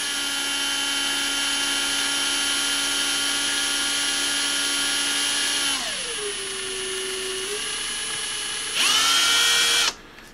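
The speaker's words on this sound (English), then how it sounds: "Put it in the drill." Power drill spinning a Smith & Wesson M&P 9mm pistol part for trigger polishing with 1500-grit paper: a steady high whine that drops in pitch midway, then surges loud briefly near the end before stopping.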